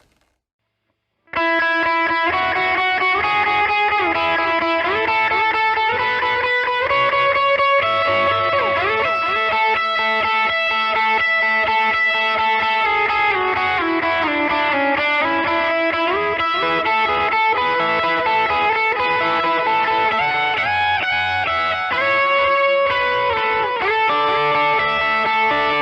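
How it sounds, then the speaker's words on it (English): An electric guitar solo played with delay, reverb and overdrive, loud and sustained, with gliding distorted notes and long echoing tails that run continuously for about twenty-five seconds after a brief silent start. "we're going to have our delay, reverb, and overdrive on. And then it builds up into a solo."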